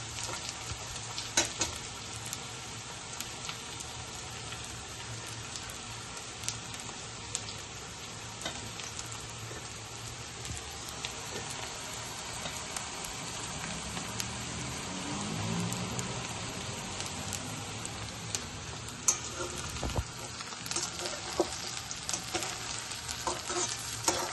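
Vegetables fry in a pan for a light summer detox dish, a long, even sizzle with intermittent stirring scrapes and taps, close and steady throughout, no voices.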